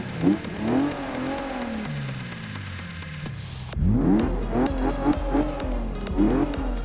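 Car engine in the Forza video game starting up and revving with the doors open, a cranking start followed by a series of rising and falling revs, moderately loud and alone.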